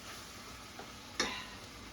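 Hamburger meat browning in a pan, a faint low sizzle with a single brief scrape or tap partway through, quiet and steady with no voices.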